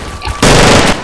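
A loud, sustained burst of MG machine gun fire in the WWII shooter Darkest Hour, starting abruptly after a brief quieter moment and rattling continuously for about half a second.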